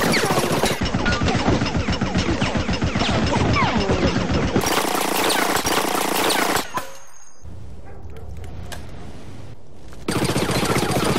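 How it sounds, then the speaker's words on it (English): Rapid automatic fire from a mini SMG in Resident Evil: Operation Raccoon City, long loud bursts of fast shots that stop abruptly, leaving a stretch of quieter game ambience before another burst resumes. "so the mini SMG is definitely a bullet spammer"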